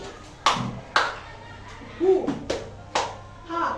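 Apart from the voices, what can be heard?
teacher's rhythmic 'tepuk semangat velocity' clapping chant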